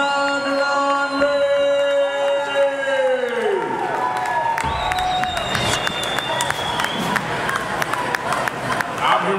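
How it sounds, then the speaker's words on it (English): Arena crowd applauding and cheering for the winner of a King of the Ring 4 fight after a guillotine choke submission. Loud, dense clapping and cheers run throughout, with an announcer's amplified voice fading out early on. "please put your hands together for Elgun Khanoghlanli"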